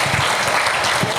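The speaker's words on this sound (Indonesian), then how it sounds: "Berikan tepuk tangan buat Tuhan Yesus" Steady applause from a church congregation at a Sunday service, dense clapping that fills the whole moment with no pauses.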